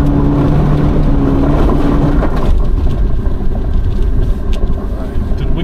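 Vehicle engine running steadily while driving a route-scouting trip through wet countryside, a loud continuous rumble with low drone, constant throughout, occasional bumps and rattles.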